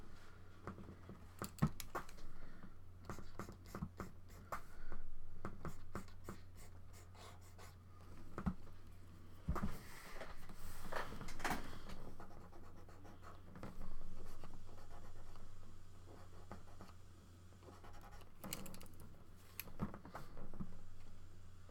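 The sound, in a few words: drawing with a pen or pencil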